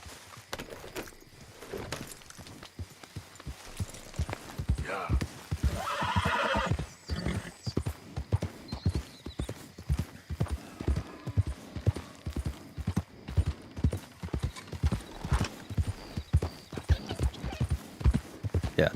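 Steady clip-clop of a horse's hooves at a brisk pace in the Red Dead Redemption 2 video game, loud and close, with a neigh breaking in partway through and the hoof rhythm carrying on throughout.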